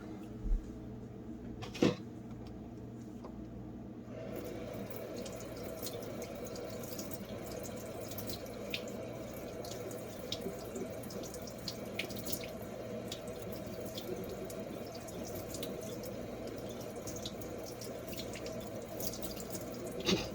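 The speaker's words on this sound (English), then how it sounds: "I'm gonna rinse it off real quick and just see what happens." Running tap water pours steadily over an acid-etched metal part being rinsed at a sink, soft and continuous after a brief clunk at the start.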